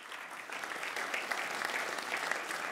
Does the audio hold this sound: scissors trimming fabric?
no